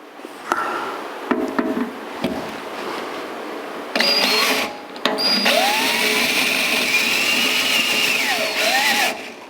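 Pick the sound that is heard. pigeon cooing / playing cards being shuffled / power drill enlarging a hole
power drill enlarging a hole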